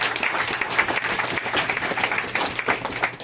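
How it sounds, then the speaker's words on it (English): An audience at a CEO's talk bursts into sustained applause, dense overlapping clapping that holds steady and fairly loud throughout, with no speech over it. "I know you're clapping because you're going to join me in doing so"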